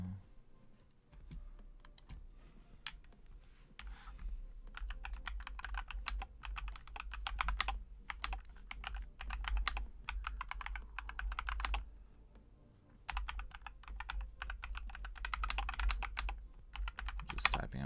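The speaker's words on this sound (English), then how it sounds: "Just typing out some stuff for anybody that might be joining us" Bursts of steady keyboard typing at a computer, set up before a live futures day-trading session, come close and clear in runs of rapid keystrokes. The runs are split by a few short pauses, and nobody speaks.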